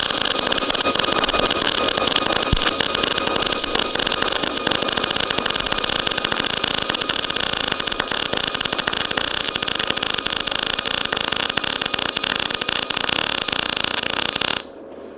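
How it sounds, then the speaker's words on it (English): A YesWelder MIG205DS MIG welder runs a bead joining quarter-inch steel plate to metal of a different thickness. A loud, unbroken buzzing crackle lasts about fourteen seconds, then cuts off abruptly. "I'm going to try to get a nice clean weld out of this thing"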